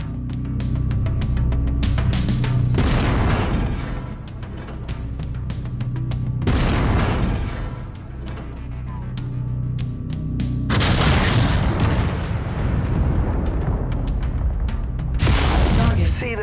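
Heavy weapons fire from MechWarrior 5 pounding a mech's center torso, booming explosive impacts in repeated waves over sustained rumbling battle noise, with speech in places.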